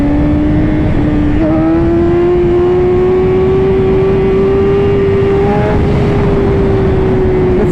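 A motorcycle engine revs in second gear for a wheelie, a loud close drone whose pitch rises steadily as it pulls, with no talking over it.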